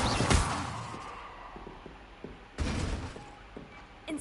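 Incendio fire spells cast in Hogwarts Legacy, each a sudden bright whooshing burst with crackling decay, two main blasts a couple of seconds apart and a third starting at the end.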